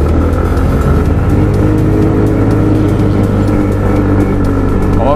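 An Italika motorcycle ridden through city traffic in Mexico City, a steady close engine drone with wind rumble, loud and continuous, with surrounding traffic under it.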